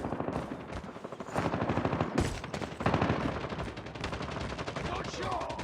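Rapid automatic gunfire rattles through a Call of Duty Mobile match in dense, continuous bursts with close, loud shots, and game voices call out over the shooting.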